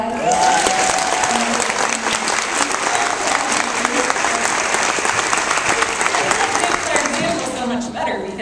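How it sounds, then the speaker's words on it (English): A room full of people gives sustained applause at a sales conference gathering, dense, loud clapping running the whole stretch with some voices and cheers mixed in beneath it. "can we give her a round of applause"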